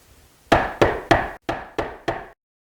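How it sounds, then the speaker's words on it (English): Six sharp knocks on a wooden door, close and fairly loud, in two groups of three with a short pause between, each rap ringing out briefly in an otherwise quiet space. "The echo of Winks knocking at Mrs. Spell's door filled the underground passage and made the children jump."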